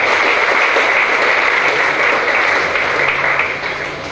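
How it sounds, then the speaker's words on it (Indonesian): Audience at an Indonesian anti-drug campaign event welcoming marathon runners breaks into loud, dense, continuous applause that fades slightly near the end, with no talking. "Kita berikan tepuk tangan terlebih dahulu."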